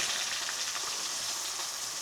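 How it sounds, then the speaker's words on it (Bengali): Fresh koi fish fry in a pan of oil, a dense, even sizzle heard up close and steady throughout, with no talk. "মাছ ভাজা হচ্ছে। এবার এই দেখেন মাছগুলো কিন্তু উল্টে দেওয়া হচ্ছে।"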